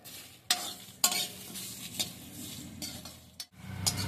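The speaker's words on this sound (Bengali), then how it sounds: "মশলাটা ভাজা হয়ে গেছে" Whole biryani masala spices dry-roasting in a pan, with quiet rustling and several sharp scraping strokes as a spoon stirs them, sounding close and fairly soft, with no talking.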